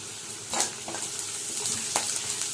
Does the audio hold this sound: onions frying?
yes